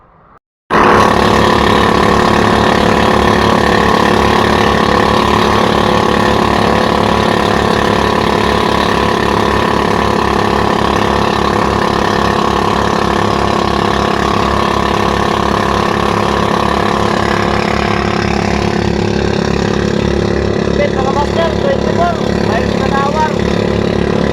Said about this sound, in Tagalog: Bagong makina, K-Tech. Sulit, sulit, napakalakas.